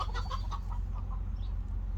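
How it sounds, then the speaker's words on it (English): Chickens cluck in quick, agitated bursts early on, then settle to faint calls over a steady low rumble. "One of the chickens was chasing another one."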